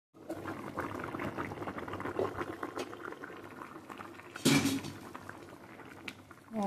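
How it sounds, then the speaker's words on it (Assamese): An egg curry with pumpkin seeds and ground cumin simmers in a pan, bubbling and gurgling steadily. A sharp clatter near the middle could be a lid, and a faint voice sits low in the background. "অকণমান উতলিব দিম, ঢাকি দিম অকণমান।"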